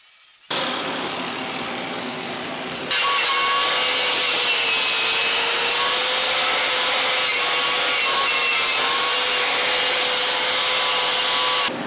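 Continuous power grinder working rust off the frame of a 1976 Ford F100 truck, a steady loud abrasive whine with shifting pitch, rising in intensity after a few seconds and running without talk.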